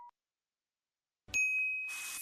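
A bright notification bell ding rings out alone, loud and sustained, with a brief faint tone at the start and silence before the chime.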